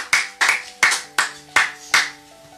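A church congregation applauds the Lord together, five loud bursts of clapping in a steady rhythm, each swelling and fading, with faint sustained organ or keyboard tones underneath.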